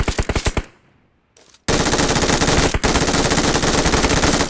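MG3 light machine gun fired in a video game, a rapid loud burst of shots, a short pause with a reload clatter, then a long sustained stream of automatic fire.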